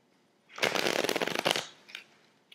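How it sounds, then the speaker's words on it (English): A Bicycle eco edition deck of playing cards being riffle shuffled, one close, crisp burst of rapid fluttering card snaps lasting about a second, followed by a softer settling sound as the deck is squared. "it shuffles very nicely"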